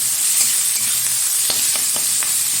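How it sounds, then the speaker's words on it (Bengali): Shrimp fry in oil with a steady, hissing sizzle and a few faint stirring clicks, no voices. "একটু হালকা হালকা ভেজে নেবো চিংড়ি মাছটা।"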